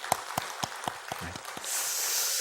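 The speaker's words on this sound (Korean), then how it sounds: "환영하는 박수 한번 부탁드리겠습니다." A church congregation gives a short round of welcoming applause during a Wednesday service, heard as a handful of distinct, fairly sparse claps in a hushed room, followed by a steady hiss.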